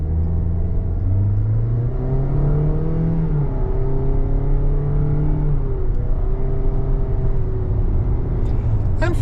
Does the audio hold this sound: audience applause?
no